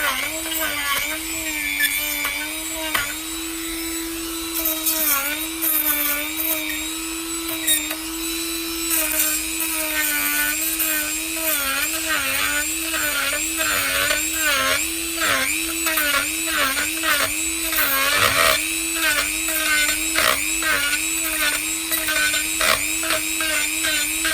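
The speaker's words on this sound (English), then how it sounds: "So we've done a little bit of carving to get rid of the bulge." Power carving tool grinding away a bulge on a Scots pine, a loud, steady high-pitched whine that dips and wavers as the bit bites into the wood, running continuously throughout.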